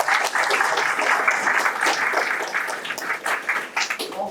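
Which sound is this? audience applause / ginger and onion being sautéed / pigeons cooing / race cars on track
audience applause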